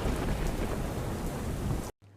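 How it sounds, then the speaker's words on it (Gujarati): Light, steady rain falls in Palanpur, Gujarat, a dense even hiss close by that cuts off abruptly just before the end. "ધીમી ધારે મેઘરાજા વરસ્યા હતા"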